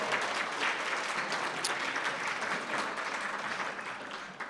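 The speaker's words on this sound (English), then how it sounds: "please, round of applause for the Great Institute staff" At a 30th-anniversary event for a university urban research institute, an audience claps steadily and fairly faintly throughout, a dense patter of hands with no voices heard.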